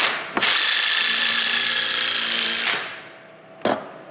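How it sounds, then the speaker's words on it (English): A power drill bores holes while a thumper table is being built, running as one loud continuous burst of roughly two seconds, then winding down and briefly restarting with a short whir near the end. "That's what I'm doing. I'm drilling."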